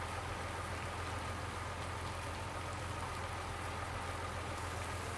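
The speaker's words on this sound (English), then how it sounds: "as soon as it stops raining" Steady, faint rainfall in Farming Simulator 19 hisses evenly throughout, a soft continuous patter with no other sounds.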